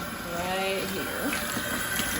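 Tap water runs into a bowl while 120 Tri-X black-and-white film rolls are washed, a steady close splashing gush with faint talk beneath.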